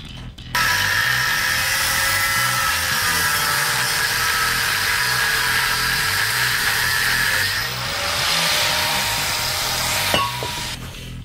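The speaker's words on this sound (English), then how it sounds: "Get the angle grinder and let's get cutting." An angle grinder cuts through scrap metal with a loud, continuous high-pitched whine and grinding screech. The pitch wavers slightly under load, then eases near the end as the cut finishes.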